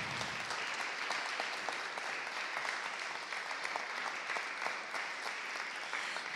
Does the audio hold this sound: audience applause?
yes